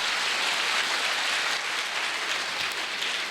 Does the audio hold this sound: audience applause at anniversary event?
yes